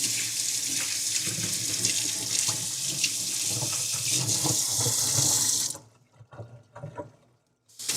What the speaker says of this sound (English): You get to hear the sound of water.